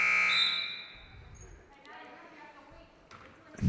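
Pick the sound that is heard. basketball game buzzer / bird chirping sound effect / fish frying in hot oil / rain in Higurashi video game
basketball game buzzer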